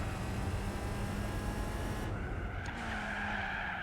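Tires skid and squeal as a car understeers in Gran Turismo 4, a steady loud screech over engine noise that shifts in tone partway through and carries on to the end.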